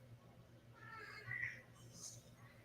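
A cat meows faintly once or twice, quiet and somewhat distant, over a low steady background hum, with no clear talk.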